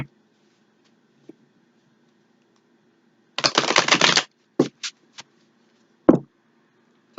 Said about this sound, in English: Give her a couple shuffles.